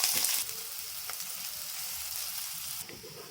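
Onions frying in oil with bay leaf, cinnamon, cloves and other whole spices in a kadai, a steady close sizzle with a brief louder burst at the start.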